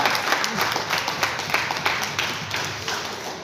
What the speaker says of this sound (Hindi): फिर से ताली बजाइए उनके लिए जोरदार।